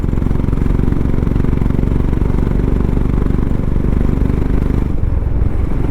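A Royal Enfield Himalayan motorcycle rides over a bumpy road, its engine a loud, steady, rumbling drone mixed with clatter, with no talking throughout.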